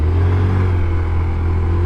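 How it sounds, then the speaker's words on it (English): A Vitacci Tank 200 Deluxe scooter engine idles steadily at close range, a low, even rumble with a light mechanical clatter and no voices. "it's really quiet too when you're just sitting here idling"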